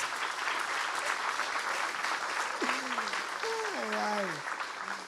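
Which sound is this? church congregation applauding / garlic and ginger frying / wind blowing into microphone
church congregation applauding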